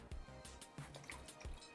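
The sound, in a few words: pouring a little water into soup pot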